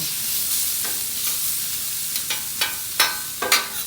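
Vegetables frying in a pan for potato nachos, a steady bright sizzle and hiss with a handful of sharp spatula scrapes and taps as the mix is spread and pressed down, close up with no talking.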